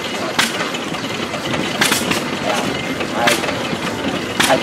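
An antique 1916 Galloway stationary gas engine, mounted on wheels, runs at a rural show with steady low chugging, overlaid by people talking nearby and a few sharp clanks.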